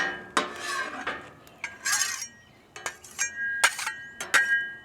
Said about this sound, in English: Clean off the spatulas.